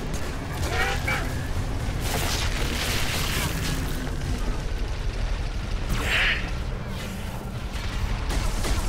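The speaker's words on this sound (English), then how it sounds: "So they're just stupid grenades." Grenade blasts in Halo 3 on the Floodgate campaign mission, a dense, continuous roar of booms and gunfire with a brighter burst partway through, all steady and loud from start to finish.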